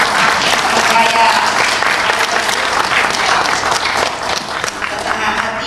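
Audience applause at an Indonesian political speech, a dense burst of many hands clapping loud and close that tapers slightly toward the end, with some cheering voices mixed in.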